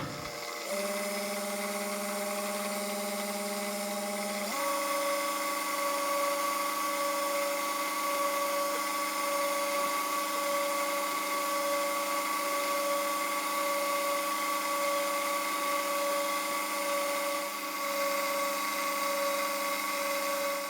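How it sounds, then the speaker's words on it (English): A high-pitched tap drill whines steadily and loudly, its pitch stepping up after a few seconds as it bites into metal hose clamp parts, then holding constant. "we'll drill through them with a tap drill"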